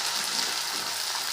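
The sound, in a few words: kurdaya (fryums) frying in hot oil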